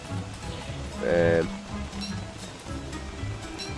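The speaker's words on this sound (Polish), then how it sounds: "Bo pada deszcz i nie chcę zmoknąć, więc będę nosił parasol." Rain falling in Don't Starve, a steady soft patter under a voice that keeps talking, with a short tonal game sound partway through.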